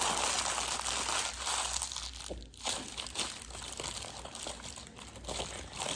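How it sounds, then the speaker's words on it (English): A sheet of paper is crumpled up by hand, giving a steady, close crinkling and crunching that runs throughout without any talking. "So you're going to take your paper and you're gonna just kind of crumple it up."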